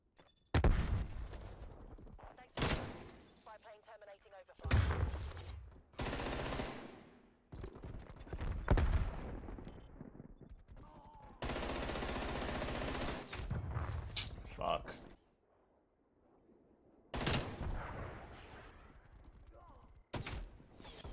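Bursts of automatic gunfire in Black Ops Cold War with the FFAR 1 rifle, loud rapid rattling volleys broken by short pauses, with game sounds between them.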